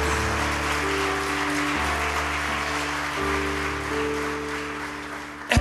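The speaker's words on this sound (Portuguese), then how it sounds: "Aplauda bem forte a Ele." A church congregation applauds loudly, a dense continuous wash of clapping over sustained organ or keyboard chords, ending in a few sharper bursts.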